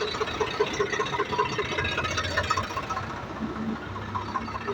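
A tractor engine idles steadily with a low rumbling knock, fairly close and continuous, without speech.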